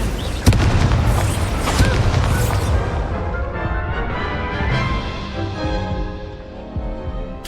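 A sharp blast from the Confringo spell in the video game Hogwarts Legacy lands early and is followed by crackling, rumbling game noise with further thuds, and the whole mix slowly settles.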